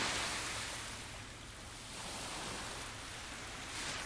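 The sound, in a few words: ocean waves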